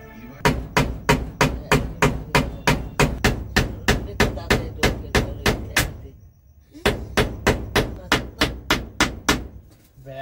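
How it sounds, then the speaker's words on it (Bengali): A hammer drives nails into a wooden board with a fast, even run of loud, sharp strikes, a short pause, then another rapid series of blows. "আরো দুটো পেরেক মেরে দিচ্ছি, ব্যাস আর নড়ছে না।"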